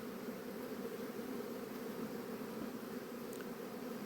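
Steady, dense buzzing of many honeybees flying close by, a continuous drone that holds even throughout with no pauses.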